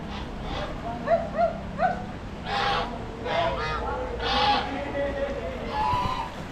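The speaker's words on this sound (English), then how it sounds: "There's loads of geese here." Several geese in Banyuwangi, Indonesia honk in short, separate calls, near and moderately loud, with softer honks and a faint voice mixed in.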